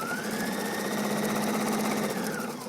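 A sewing machine stitches binding down onto fabric, running at a steady fast pace with a continuous mechanical whir and rapid needle chatter, close and alone, without a break.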